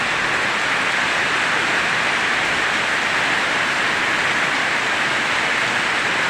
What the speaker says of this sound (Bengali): বৃষ্টি এবং কি ঝড় বাতাস হচ্ছে আমাদের এখানে।